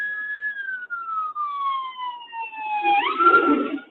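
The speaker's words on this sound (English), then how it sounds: "Oh, they're coming up the hill. It's a fire truck." A fire truck siren wails in long descending sweeps, then rises sharply as the truck climbs a hill and passes close by, joined by a burst of engine and road noise at the end.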